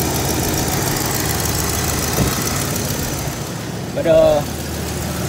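A small-block car engine idles after an oil pump replacement, making a steady, close rumbling idle with an even mechanical chatter, and a person speaks briefly near the end.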